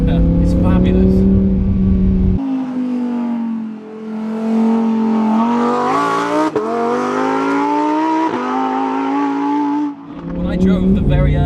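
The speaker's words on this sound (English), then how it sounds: "those downshifts, man, it just has me shifting when I don't even need to" A Lamborghini Huracán Performante engine revs hard and climbs through the gears with sharp blips on the downshifts, loud and close, as a person talks over it at the start and end.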